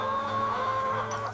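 Chickens clucking on a chicken ranch, a close, continuous murmur of overlapping fowl calls with tonal clucks and squawks, heard without any talk.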